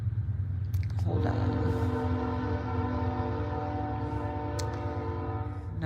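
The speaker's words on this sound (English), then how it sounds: "No matter when I read, the train always comes by." A train passes close by, its horn sounding as a sustained loud tone over a rumbling, clattering rail noise that carries through the whole stretch without speech.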